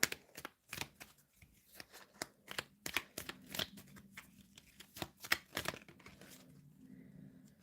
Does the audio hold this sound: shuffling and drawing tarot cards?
yes